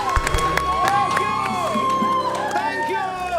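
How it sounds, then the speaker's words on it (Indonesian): A live Indonesian crowd cheers and whoops for a performer, with loud overlapping shouts and excited voices filling the whole stretch alongside some clapping. "Tapi luar biasa tepuk tangan untuk Chris."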